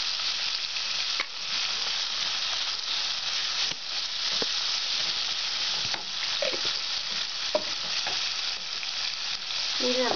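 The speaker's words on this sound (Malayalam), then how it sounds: "ഇത് നമുക്ക് ബ്രൗൺ കളറാവുന്ന വരെ വഴറ്റാം." Sliced onions with salt sauté in a pan for egg curry, a steady loud sizzle and hiss with occasional scrapes and taps of a stirring utensil, no voices.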